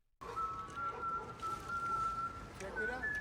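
Someone whistles a tune in a TV drama scene, a clear melodic line held over a background of low ambient sound, starting after a brief silence.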